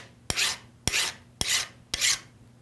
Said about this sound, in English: Then I use a flat file to file the raker down to height.